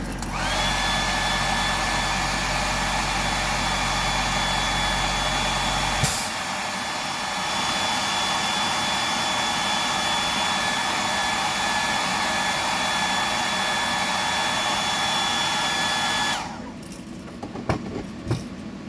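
A hair dryer blows steadily to dry the paint on a bony bream fishing lure, a loud continuous whir lasting about sixteen seconds before it cuts off, leaving quiet handling noises.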